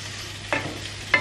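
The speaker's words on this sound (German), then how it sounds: "Inzwischen habe ich auch die Pilze hinzugefügt. Einfach ein bisschen kochen, braten, wie auch immer man es nennt, lassen" Mushrooms and tomatoes fry in a pan for a vegan dish, with a soft steady sizzle under two brief scraping stirs, close by and with no talk.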